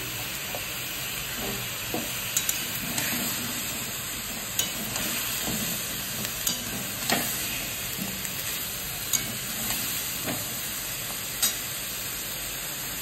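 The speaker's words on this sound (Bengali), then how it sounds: "এখানে গাজরগুলো দিয়ে দিচ্ছি।" Carrots and other vegetables for a chicken stew go into a hot pot, giving a steady sizzle with occasional stirring clinks and scrapes throughout, with no talking.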